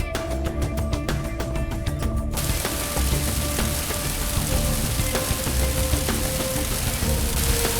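Steady rain falling on an outdoor surface, a dense continuous hiss with scattered drops and a faint low rumble underneath, loud and close throughout with no voices.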